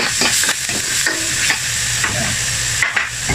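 Chicken liver fries with garlic and onion in a pan for adobo, giving a loud, dense sizzle with several stirring scrapes, close up and with no voices.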